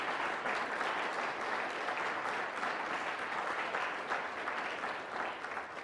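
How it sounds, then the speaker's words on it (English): Steady, dense applause from a seated audience honoring five speakers at a community gathering, continuous and fairly loud from start to finish with no voices rising above it. "I wanted to give a round of applause for the 5 brave people that came here"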